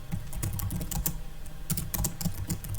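Typing on a computer keyboard while editing in the Linux nano editor: brisk, uneven clusters of close key clicks with a short pause midway, no voices.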